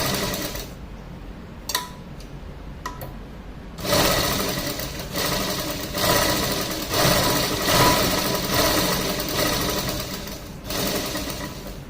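A sewing machine stitching on paper without thread, a few short clicks and bursts, then a loud, fast continuous run of mechanical stitching close by with small pauses.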